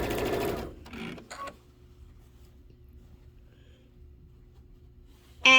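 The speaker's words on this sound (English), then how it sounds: "now I am sewing my first outer border strip on" Sewing machine stitching an outer border strip onto a quilt table topper, a short quick whir at the start, then a quiet low hum with a brief burst at the end.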